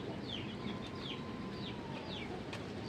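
Farm chickens clucking faintly in the distance over a low outdoor hum, a few short repeated calls spread across the moment, no one speaking.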